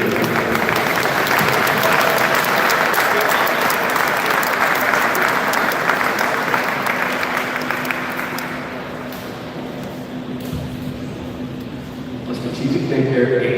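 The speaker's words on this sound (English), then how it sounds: "Let's give a big round of applause for our number 7, Eugene." Loud, sustained crowd applause greets a player introduction at a Penn State Behrend versus Austin event, steady for several seconds before thinning out, with a voice speaking faintly beneath it.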